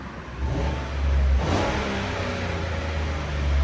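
Throaty rev from a 2015 GMC Sierra's 5.3-liter V8 on its factory exhaust, the engine note climbing from idle to a peak around a second and a half, then easing back to a steady, fairly quiet hum.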